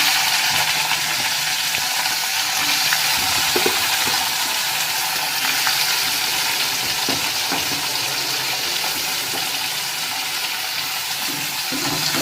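Chopped onion frying in a pan with whole garam masala, a steady broadband sizzle with occasional soft scraping of stirring, close and continuous.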